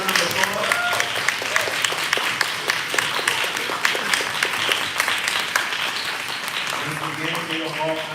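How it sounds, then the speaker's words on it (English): An audience at a small business appreciation day event bursts into steady applause, many hands clapping densely and continuously at fairly close range, with scattered voices rising faintly beneath toward the end. "let's give up a wonderful round of applause"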